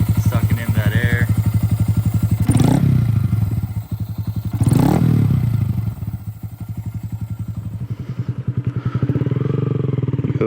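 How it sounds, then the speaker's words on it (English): Honda Grom motorcycle, 2022 or later, fitted with an MNNTHBX intake, running close up with a steady pulsing engine note and two sharp revs that swell and fall back to idle. "You can really hear that intake sucking in that air."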